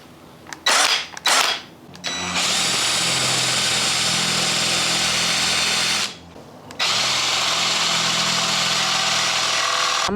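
Power drill fitted with a hole saw, run as a practice test before cutting into a van: two short bursts, then a loud sustained whirring run that pauses briefly and resumes.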